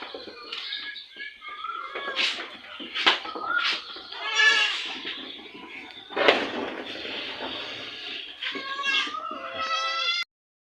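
Several domestic goats, one recently bitten by a dog, bleat in quick succession, loud and close, with wavering nasal cries overlapping one another for about ten seconds.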